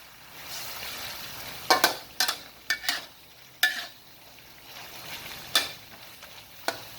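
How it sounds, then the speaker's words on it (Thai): Bamboo shoots with chicken and curry paste being stir-fried in a pan, a soft background sizzle broken by several sharp scraping and clanking strokes of the spatula at irregular intervals, with no talk. "ผัดให้เข้ากัน"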